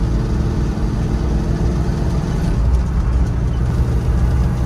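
A cold 1971 Mercury Montego's 351 Cleveland V8 with a 4-speed runs with a deep, steady rumble, heard loud and close with no talk.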